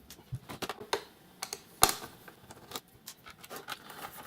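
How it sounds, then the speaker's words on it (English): Small screws are removed from an HP 6820s laptop during disassembly, giving sparse close metallic clicks and ticks in an irregular rhythm, with one sharper clack midway. "Okay, let's unscrew everything."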